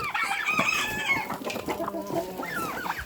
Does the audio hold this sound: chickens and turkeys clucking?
yes